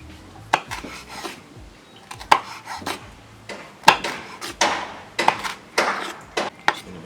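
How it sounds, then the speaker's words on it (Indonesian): Bell pepper sliced lengthwise with a knife on a cutting board, a series of close, crisp cuts and scraping knocks in an uneven rhythm, with no talk. "Yang pertama paprika, potong memanjang aja."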